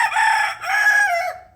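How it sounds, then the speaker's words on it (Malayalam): A rooster in a home garden crows one full cock-a-doodle-doo, loud and close, in two stretched phrases that trail off at the end, with no talking. "ആ പൂവൻകോഴി സൗണ്ട് ഉണ്ടാക്കുന്നത് അവനാണ് ഇവൻ"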